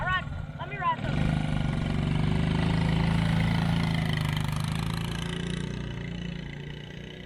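A 1986 Honda TRX 70 ATV's small engine revs up and runs steadily for several seconds, loud and close, then eases off, with brief voices at the start.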